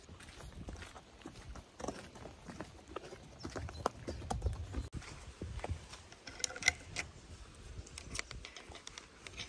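Horses walking on a Swedish farm, their hooves clip-clopping in uneven, close steps over a rustling outdoor background, moderately loud with scattered knocks and shuffles.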